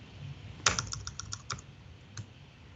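A short run of close computer keyboard keystrokes, about eight quick clicks followed by a single later tap, typed during a .NET developer conference coding demo, faint over low background hum with no voices.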